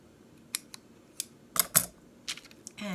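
Scissors cutting ribbon, several crisp close snips in an irregular rhythm over quiet background, ending in a short rustle.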